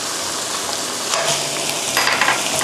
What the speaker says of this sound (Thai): แล้วก็จะผัดหมูให้สุกนะคะ